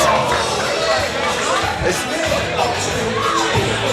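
A loud wrestling crowd roars and cheers at a live match, a dense wall of yelling and whooping with shouted voices rising above the din.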